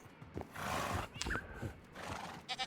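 Horses neighing and whinnying in Minecraft, a couple of short shrill calls with snorting sounds in between, alone at moderate volume.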